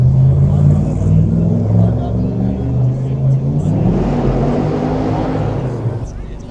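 Porsche 968 sports car engine rumbling and revving as it drives past outdoors at a morning car meet, a loud steady roar that swells toward the end before dropping away.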